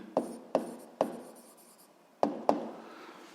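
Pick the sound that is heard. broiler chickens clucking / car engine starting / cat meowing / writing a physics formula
writing a physics formula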